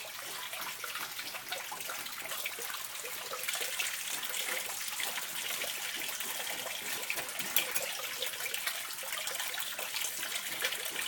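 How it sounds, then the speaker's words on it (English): Water washes gold concentrate through a mini sluice for fine gold recovery, a steady close rushing gush with light trickling detail that runs alone and evenly throughout. "I'm just going to take a scoop and put it in the top here, and you can try and let it wash away."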